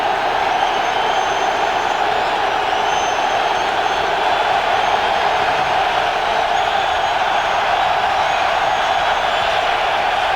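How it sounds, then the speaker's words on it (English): A steady, roaring crowd fills an NFL stadium end zone during the 2001 NFC Divisional Playoff between Philadelphia and Chicago, a loud, unbroken wash of noise with no distinct peaks. "This crowd down here in the end zone is awfully loud"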